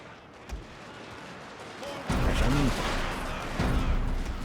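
Musket volleys crackle through a Shogun 2: Total War Fall of the Samurai naval battle at Hakodate Bay, a dense ongoing rumble of massed fire that swells louder midway, with a voice speaking over it.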